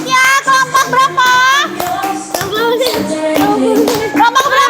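A group of children claps for a classmates' group about to present in a classroom, with bursts of rhythmic clapping between cheerful young voices and an adult speaking.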